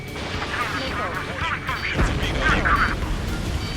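In an aerial combat video game, a missile fires and detonates with a sharp burst and rumbling boom, set among other game sounds.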